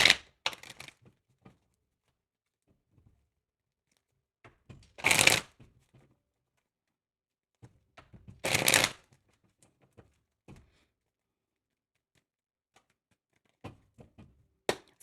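Tarot cards being shuffled in quick riffling bursts, with two longer shuffles and a few soft card taps between stretches of quiet, close by.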